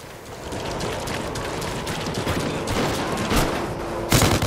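Rapid gunfire from the shooter video game Call of Duty Ghosts rattles in dense overlapping bursts, loud and close, with a sharper sniper-rifle crack near the end.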